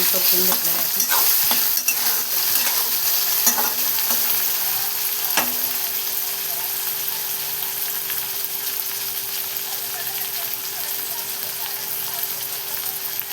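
Onion browning in oil in a kadhai while being stirred, a continuous crackling sizzle with occasional scraping clicks of the spoon, fairly close and steady, slowly fading a little.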